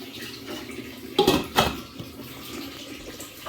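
Hot water poured into a pan on the hob for steaming a syrup sponge pudding, a short splashing gush of about a second with a brief second pour, then quiet kitchen background.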